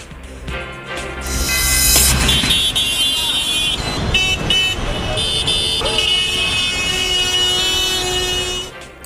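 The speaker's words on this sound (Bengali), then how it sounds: "রাজধানীতে যেন চলছে হর্ন বাজানোর প্রতিযোগিতা।" Car and truck horns honk repeatedly in dense traffic in Dhaka, loud overlapping blasts and long tones layered over a busy street roar.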